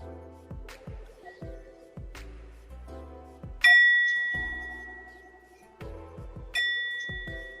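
A singing bowl is struck repeatedly with a mallet, giving sharp knocks and several ringing metallic tones that hang and fade, close and fairly loud, with no talking.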